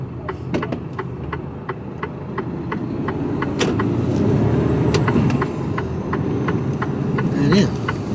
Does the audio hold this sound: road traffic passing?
yes